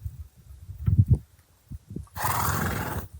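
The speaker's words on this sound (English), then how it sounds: "Riding with wild horses." Wild horses out in open West Texas country near Big Bend whinny and snort in a few short, loud calls, followed by a long, rough, broadband rush of sound that continues for about a second.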